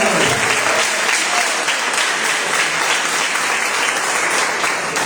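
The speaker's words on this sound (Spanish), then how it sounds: "Denle fuerte aplauso." A church congregation applauds loudly and steadily, a dense wash of clapping hands filling the space without a break from start to finish.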